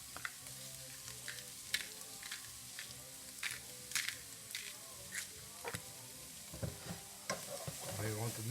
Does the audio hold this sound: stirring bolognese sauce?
yes